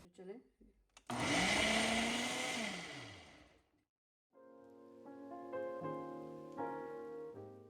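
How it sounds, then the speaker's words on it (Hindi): A kitchen blender grinding bread with cardamom, a loud whirring roar that runs for about three seconds and then winds down, followed by a pause and some music. "और अब चलते हैं अपनी मशीन की तरफ कि इसको ब्लेंड कैसे करना है"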